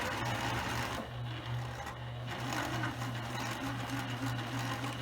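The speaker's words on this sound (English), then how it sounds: "I finished stitching both of the ends of the fabric" A sewing machine stitches the ends of the fabric for a pillowcase, giving a fast, steady mechanical whir with a short pause in the middle, close and fairly quiet, no talk.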